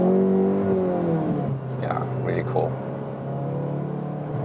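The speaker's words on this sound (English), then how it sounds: "But we already have good exhaust note." A VW Golf GTI Clubsport with 300 horsepower driving front wheels, its engine and exhaust note droning steadily and loud through the cabin, with people talking over it.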